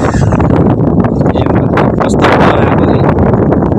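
Strong wind blowing across a hilltop at Halesi, buffeting the microphone with loud, continuous rumbling gusts while a person talks over it.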